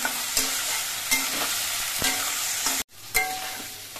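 Potatoes frying in a kadai with a little salt added, a steady close sizzle broken by periodic scraping stirs and a brief pause near the end.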